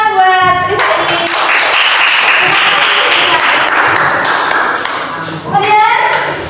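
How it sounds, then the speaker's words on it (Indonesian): A classroom of students claps for a classmate, a brisk burst of scattered hand claps and thumps that rises, holds for several seconds, then fades, with a voice speaking at the start and again near the end. "beri tepuk tangan buat Rifai"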